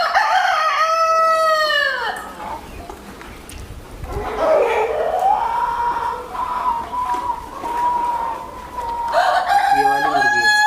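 A five-month-old Kadaknath rooster on a poultry farm crows up close, giving a loud drawn-out cock-a-doodle-doo and a second crow near the end, with faint clucking from other fowl.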